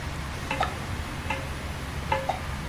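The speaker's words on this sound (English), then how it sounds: "soundtracked by the sounds of ticking and water droplets" Soft steady ticking with sparse water droplets plinking in a quiet, dark video game soundtrack from Deltarune, a few bright drips spaced apart over a low hum.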